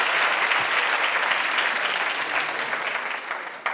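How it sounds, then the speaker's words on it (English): An awards ceremony audience applauds, a dense, steady wash of clapping from many hands that continues evenly before tapering slightly at the end. "A huge round of applause once again to our winner."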